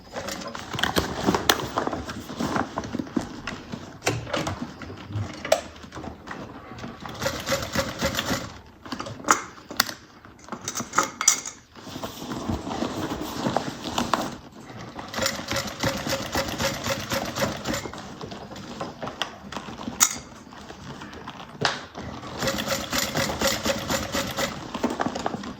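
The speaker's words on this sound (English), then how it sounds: "I do want to top stitch from the inside" A sewing machine top stitching a garment from the inside runs in bursts of steady, fairly loud stitching with short pauses between runs, and no talk over it.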